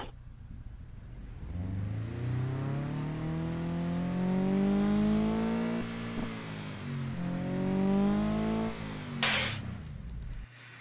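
A car engine in a car design video game revs up through climbing tones, drops and revs again in two long sweeps, loud and close, with a short burst of broadband noise near the end.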